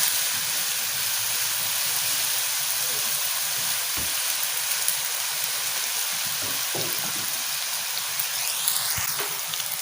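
Vermicelli and sugar are stirred in a hot pan, giving a steady, even sizzle and hiss throughout, broken by a few brief knocks and scrapes of the utensil against the pan.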